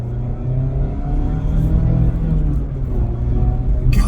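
A 2024 Mazda Miata ND3 dealer car being driven and rev-matched, its engine note rising and holding in a steady near rumble from the cabin, with a brief click at the end.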